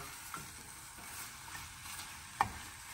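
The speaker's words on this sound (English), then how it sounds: "we're just going to stir those around, get them all coated with that butter" Vegetables sizzling in butter in a pan while being stirred, a soft steady fry with faint scrapes and one sharper clack of the utensil.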